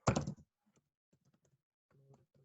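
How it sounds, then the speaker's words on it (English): A computer keyboard being typed on during a Spring Boot coding session: a loud quick burst of keystrokes at first, then scattered soft individual key clicks with pauses, no talking. "I'm without speaking, I'm typing everything"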